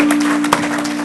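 A church congregation at a Sunday service applauding: continuous clapping of many hands at steady loudness through the whole short moment, with a sustained organ-like tone underneath.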